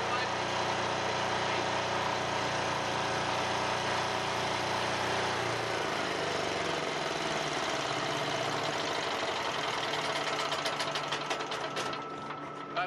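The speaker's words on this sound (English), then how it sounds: "This is a traditional generator. It's ran by diesel." Diesel-powered GDS 3000 generator running steadily nearby, a loud continuous mechanical drone with a fast rattling rhythm that shifts slightly partway through, while a person talks over it.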